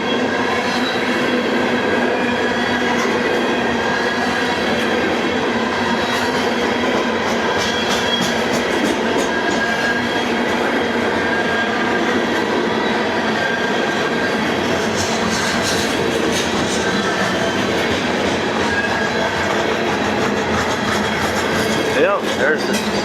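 Coal train rail cars rumble by in a steady, unbroken stream as the train pulls into a siding in Kentucky, wheels clattering and squealing faintly, sustained at close range for the whole stretch.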